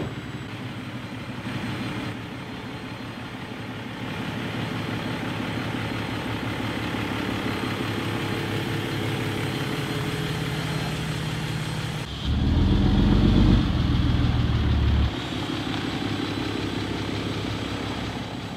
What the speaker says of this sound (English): Finally driving the Ram after an extremely long time.